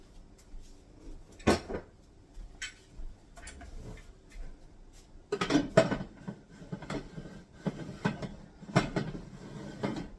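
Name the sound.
putting the lid on a canning jar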